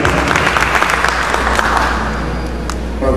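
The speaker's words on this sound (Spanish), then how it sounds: "Un gran aplauso para el gobierno." Loud, close applause from a crowd at a teachers' union gathering, dense clapping over a heavy low hum, continuing steadily for a few seconds.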